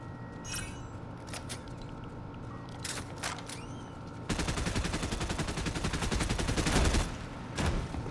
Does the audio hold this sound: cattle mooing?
no